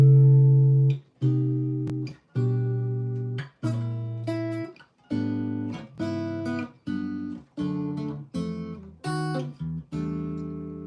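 A sequence of about ten sustained chords, each stepping down a semitone from D, played one after another with brief gaps, clear and close.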